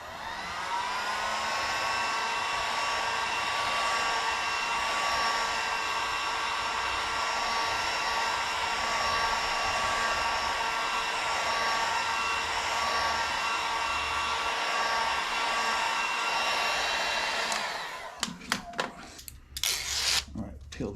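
A hair dryer or heat gun blows steadily on a 1976 Harley Shovelhead saddlebag emblem, a loud, continuous whine with a strong tonal hum lasting about seventeen seconds before cutting off into brief handling noises.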